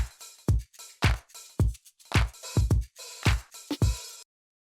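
Electronic beat drums in the drop of a future-style beat, punchy kicks alternating with sharp claps and snappy hits in a steady, syncopated groove, loud and dry, ending abruptly.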